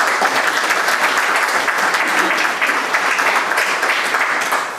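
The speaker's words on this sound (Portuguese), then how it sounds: "Uma salva de palmas para os três." A full audience applauds loudly and steadily at a poetry conversation event, dense continuous clapping with no talk over it.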